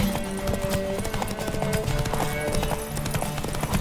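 Steady clip-clop of horse hooves trotting at a regular rhythm, close and fairly loud, with faint game-like background tones.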